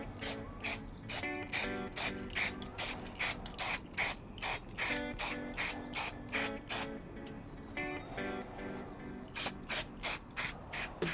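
A spray paint can holding a mixing bearing is shaken hard, giving a fast, rhythmic rattle of sharp metallic clacks in quick bursts, loud and close, with a short pause partway through.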